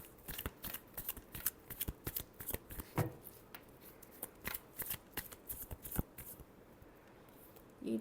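Tarot cards shuffled by hand, a quick run of crisp riffling flicks and taps coming close together, fairly near and moderately loud, with no voices.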